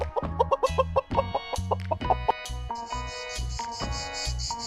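A chicken clucks in short, rapid bursts, loud and close, over a bouncy rhythmic music backing.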